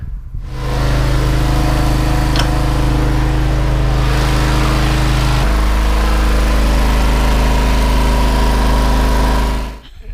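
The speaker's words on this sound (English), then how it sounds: "Oh man, the generator." A generator engine runs steadily at a remote work-trade site in the Alentejo, Portugal, a loud continuous mechanical drone close by that shifts pitch slightly partway through, with no talking.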